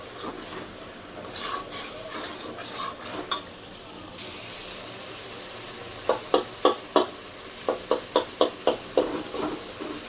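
A spatula stirs and mashes chicken curry in a pan with soft scraping and sizzling, followed by a run of sharp, evenly spaced taps against the pan.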